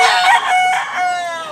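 A bullstag rooster, nine to ten months old, lets out one loud, close crow with a rising and falling warble lasting under two seconds.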